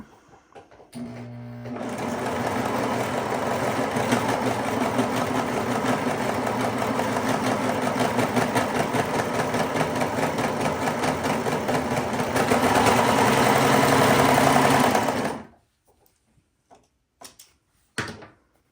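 An overlocker sewing machine stitches along a fabric edge and trims off the extra piece, a loud, fast, continuous mechanical whir for about thirteen seconds that stops abruptly, followed by a few faint clicks and near silence.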